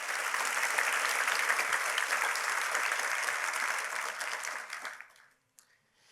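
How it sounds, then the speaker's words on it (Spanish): A church congregation applauds to praise God during a Spanish-language sermon, a dense, steady wash of clapping that holds for about five seconds, then fades out abruptly into near silence. "Dale un gran aplauso a ese Dios todopoderoso."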